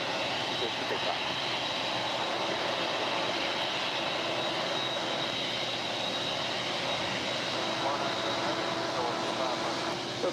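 An airliner taking off from runway 25 right at LAX, a steady broad jet roar that stays loud and even, with faint talk mixed in.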